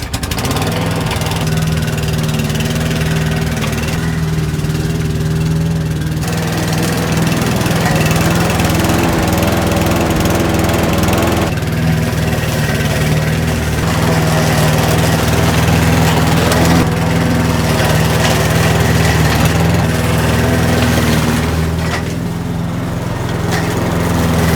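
A lawn mower runs steadily and loudly up close in a garden field among fruit plants, its engine drone holding constant with slight shifts in load as it moves.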